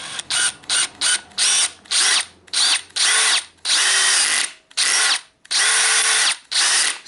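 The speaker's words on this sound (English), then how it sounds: "Let the drill do the finding." A power drill bores out the screw holes of the primary case on a 1969 Triumph Daytona T100R motorcycle, running in about a dozen short, loud bursts that speed up and slow down between pauses, with no talking.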